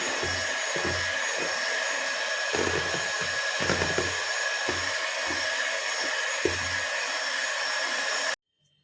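Electric mixer whipping a cream mixture for homemade ice cream, a loud continuous motor whine with rhythmic low thumps as the beaters move through the bowl, stopping abruptly near the end.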